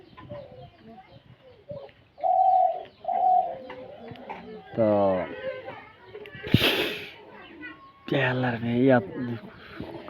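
Loud, nearby calls of a white-breasted waterhen repeat in harsh, throaty bursts, while people talk over and between them.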